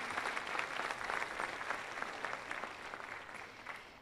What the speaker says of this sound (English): Another round of applause for Carly